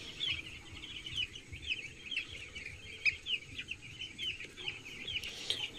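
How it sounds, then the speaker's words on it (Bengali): A flock of chickens, some eating feed and some drinking water, clucking continuously in a busy, overlapping chatter with sharper calls scattered through, moderately near over a low rumbling background. "মুরগিগুলো কিন্তু খাবার খাচ্ছে, আবার কিছু মুরগি পানি খাচ্ছে"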